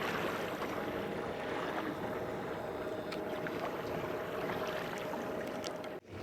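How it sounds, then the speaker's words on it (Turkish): A rented boat crosses a lake with a steady, loud engine drone and wind noise that continue unbroken for several seconds, then cut off sharply near the end. "Kiraladığımız tekneyle şimdi bu kadar uzağa geldik."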